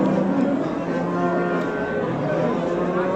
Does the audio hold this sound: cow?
yes